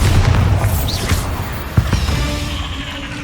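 A Bombarda spell explosion in Hogwarts Legacy, heard as a single sharp boom near the middle over a dense, continuous bed of game-combat noise and rumble.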